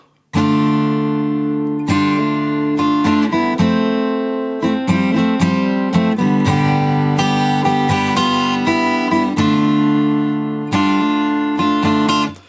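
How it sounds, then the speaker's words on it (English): An acoustic guitar in standard tuning plays a verse of chords and picked notes, ringing clearly and steadily on its own for several bars. "Guitar's in standard tuning and the verse sounds like this."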